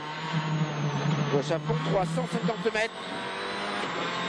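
A WRC Citroën rally car on a tarmac stage of Rally Bulgaria 2010 hums along at a cruising pace, its engine note steady and moderately distant beneath a commentator talking throughout.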